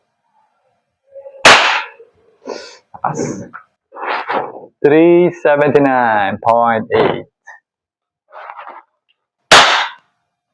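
Two sharp, loud shots from a WE Glock 34 Gen4 airsoft gas blowback pistol, one near the start and one near the end, with someone talking between them.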